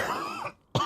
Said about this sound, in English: I am going to die of this cough